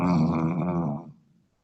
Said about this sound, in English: Somebody is snoring.